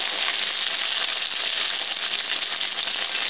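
Wontons deep-frying in hot oil give a steady, dense sizzle with fine crackling throughout, close and continuous, with no voices.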